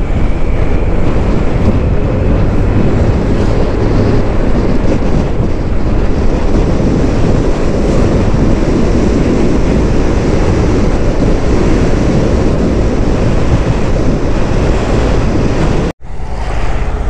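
Heavy rain and strong typhoon wind lashing a hillside, a loud, unbroken roar with constant buffeting against the microphone, steady for the whole stretch before a brief dropout near the end, no voices.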